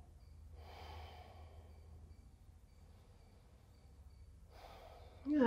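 During a vinyasa yoga flow, a person breathes in two long, soft breaths close to the mic over a quiet background. A slight rustle follows at the end.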